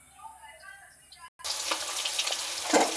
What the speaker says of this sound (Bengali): এই কাঁকরোল হলুদ লবণ মাখিয়ে এবার একটু ভেজে নেব।